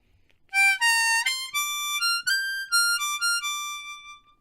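A harmonica plays a short blues phrase high in its upper register in second position, with sustained bright notes stepping along one after another and one bent note, heard alone and fairly quiet.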